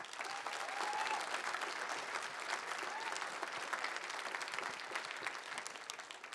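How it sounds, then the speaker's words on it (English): Sustained applause fills an award ceremony hall as the crowd thanks a medical center for its help, a broad, even wash of many hands clapping without pause or voices on top. "Please give them a big applause as well"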